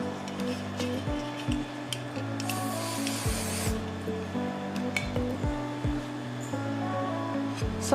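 Hairspray misted onto a backcombed bridal puff hairstyle, heard as repeated short hissing spray bursts, with one longer burst near the middle, over a steady low background hum.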